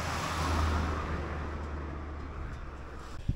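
A car drives past close by on a narrow bridge road near La Roque-sur-Cèze, a broad rushing swell of engine and tire noise that peaks early and then fades into steady wind.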